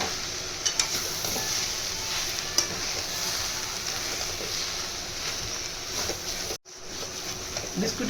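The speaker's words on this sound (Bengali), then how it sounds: "বিস্কুটের সঙ্গে সবজিগুলো ভালো করে ভাজা ভাজা হয়ে গেছে।" Vegetables and biscuit crumbs fry in a pan with a continuous soft sizzle, marked by occasional scraping stirs and light taps, followed by a brief cut to silence near the end.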